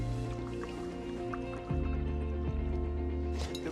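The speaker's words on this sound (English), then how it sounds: "Pour it over the chocolate." Boiling water poured over 350 grams of chocolate for a mousse, a splashing, trickling pour that grows heavier partway through, with music playing underneath.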